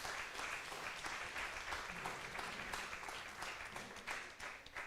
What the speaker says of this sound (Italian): ti avrei invitato qui per ricevere l'ultimo applauso, ma è già arrivato